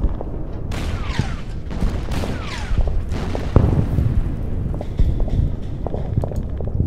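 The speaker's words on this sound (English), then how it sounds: "I'm gonna hit it with the artillery." Artillery strike in the wargame Order of Battle, a series of sharp impacts and whooshing descending shell sounds spread over several seconds, fairly loud and continuous, with a few scattered thuds toward the end.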